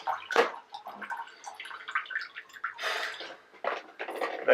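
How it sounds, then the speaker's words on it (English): Water drains and gurgles out of a Whisper aquarium filter removed from a fish tank during cleaning, a near, irregular sputtering trickle with bubbly gulps, heard alone without talk. "Let the water drain out first."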